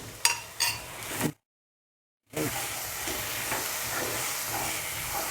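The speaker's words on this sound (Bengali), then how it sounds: "এটাকে ভালো করে কষাবো একটু একটু জল দিয়ে আমি কষিয়ে নেব" Spice masala with coriander powder sautéing in a pan with splashes of water, a steady close sizzle and stirring scrapes, broken by about a second of silence before the frying resumes and holds at an even level.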